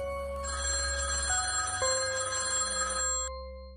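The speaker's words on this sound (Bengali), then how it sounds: "অজানা নাম্বার থেকে একটি ফোন আসে" A telephone rings with a steady electronic trill for about three seconds, then cuts off abruptly, with no voices.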